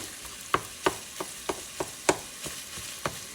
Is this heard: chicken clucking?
no